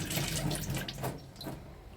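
Water runs from a household kitchen tap in a steady, close, hissing splash that fades and thins near the end.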